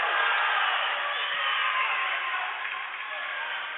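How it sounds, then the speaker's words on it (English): The crowd at a Hopkins v Haverford basketball game makes a steady, muffled roar that stays at an even level and fills the whole stretch. "The Fords crowd really getting into it here"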